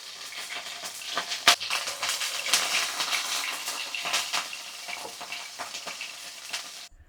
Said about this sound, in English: As soon as the edges start to change color, give them a flip and keep searing